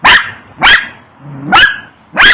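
A dog barks loudly nearby at a gourd in a backyard pumpkin patch, four sharp barks in a steady rhythm with a short low growl between them.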